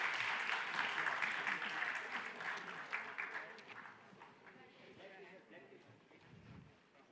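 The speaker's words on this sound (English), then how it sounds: "Big round of applause for all 6 teams." Audience applause for six quiz teams at a mastermind event, a dense burst of clapping that is loud at first, then thins and fades out over several seconds.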